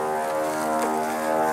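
Steady drone of a propeller airplane flying at a Fourth of July air show in Michigan, heard at moderate distance under breezy outdoor conditions, with no talking.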